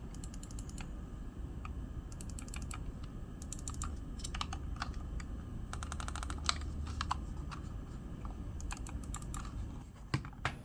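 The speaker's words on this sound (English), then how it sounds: "all these buttons are pretty well built. They are pretty clicky. Just listen to them." Clicky buttons on a GameSir X2 Pro controller pressed in quick, irregular bursts of small sharp clicks, close and fairly quiet over a low background hum.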